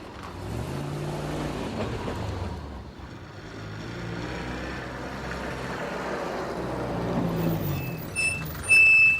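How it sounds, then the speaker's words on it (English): Land Rover driving at a steady engine drone with rumbling low tones that shift as it moves, ending in a louder burst with faint high tones at the end. "Go in the Land Rover"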